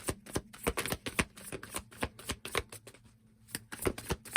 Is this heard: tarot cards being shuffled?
yes